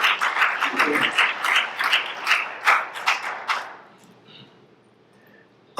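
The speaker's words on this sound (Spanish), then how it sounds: "Denle un aplauso al Señor" Church congregation applauding, a burst of many hands clapping at moderate distance for about four seconds before fading into quiet room tone.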